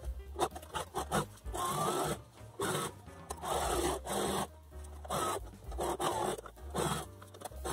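A sewing machine runs a safety stitch 1 cm in from the edge around a hoodie's hood, in steady whirring bursts with short pauses and rustling fabric between runs.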